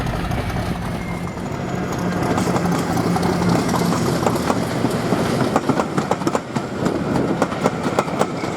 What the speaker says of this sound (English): Class 50, 50026 Indomitable, and creating quite a bit of smoke, she crosses Corfe Common and heads for Swanage